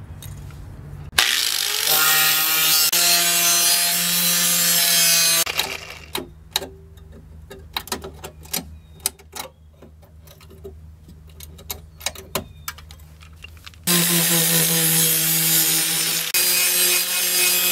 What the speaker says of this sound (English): Now we got to do some cleaning up of all this rust. Get it down to at least bare metal.